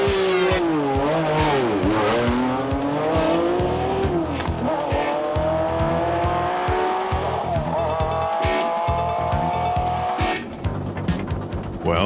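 Off-road race trucks and cars roar past loudly in a continuous, overlapping drone of revving engines with rising and falling pitch, bursts of tire noise and skidding, and no talking.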